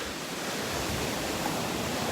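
Ocean waves break steadily along the surf line at Delnor-Wiggins beach, a continuous broadband wash of surf that stays loud and even with no distinct pauses between breakers.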